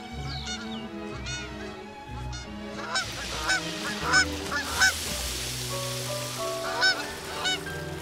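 A flock of Canada geese honking continuously in flight over Paris, many calls overlapping, fairly close with a rushing breezy background.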